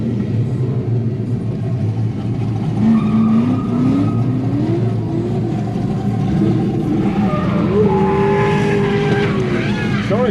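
Grassroots race cars roar around a track, loud engine drone with rising and falling revs as cars pass, a few sharper whines cutting through, and people talking underneath.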